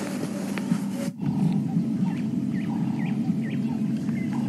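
A lion on a safari drive, low guttural grunting roars carrying from a short distance under steady vehicle and outdoor background noise, with faint bird chirps.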